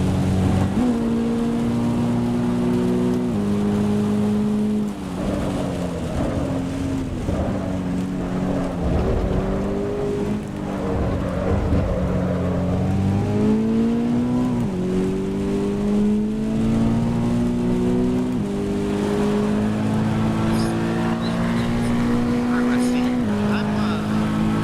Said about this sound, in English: barely hear you over the sound of the engine